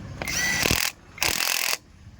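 A new electric impact wrench screw machine runs in two loud bursts of about a second each, with a brief pause between, giving a dense, rattling mechanical whir close up.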